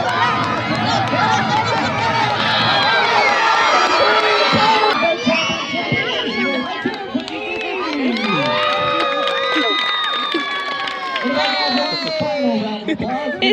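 A crowd cheers and shouts loudly at a pumpkin patch outing, children's high squeals and voices rising and falling in a busy, continuous roar with people talking throughout.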